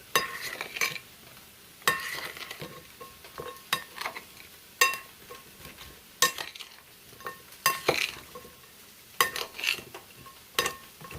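Food is stirred in a pan: distinct scraping strokes roughly every second or two, each a short rasping burst over a faint sizzle, close and without talk.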